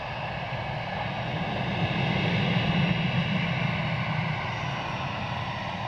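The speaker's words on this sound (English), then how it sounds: "Iberia taxiing out towards me" Iberia airliner taxiing at Edinburgh Airport, a steady broadband jet engine rumble at moderate distance, swelling slightly in the middle and holding constant throughout with no talk.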